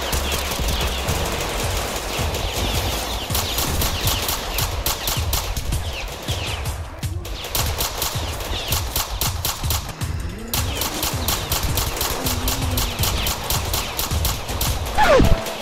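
Gunfire in the Roblox South Bronx hood roleplay game: rapid repeated shots in long continuous bursts, loud and close, with brief pauses and faint other game sounds between.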